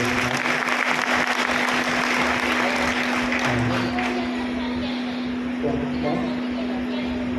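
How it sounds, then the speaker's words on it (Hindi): Steady applause from a seminar audience fills the stretch, with a constant electrical hum underneath and a few voices surfacing briefly. "इनके लिए एक बार जोर से तालियां बजाइए"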